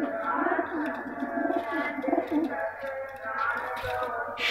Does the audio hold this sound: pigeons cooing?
yes